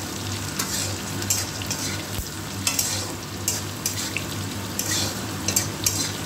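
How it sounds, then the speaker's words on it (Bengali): Okra sizzles steadily in a hot pan, a dense continuous fry with occasional sharp scraping stirs and clinks of a utensil against the metal, close and fairly loud with no voices. "একটু ভালো করে ফ্রাই করে নেব এটা,"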